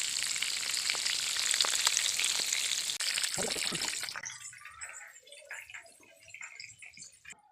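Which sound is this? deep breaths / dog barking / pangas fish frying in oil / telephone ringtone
pangas fish frying in oil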